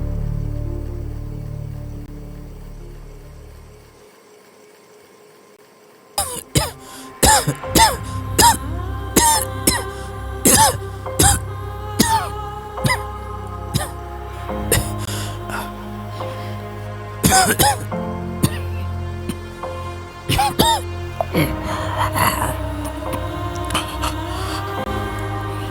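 A person coughs and clears their throat repeatedly in a quiet indoor setting, a string of sharp, close bursts with short pauses between them after a brief silent stretch.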